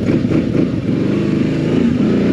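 Off-road side-by-side engine crawling in four-wheel drive low, a steady close low rumble with slight throttle swells and no talking.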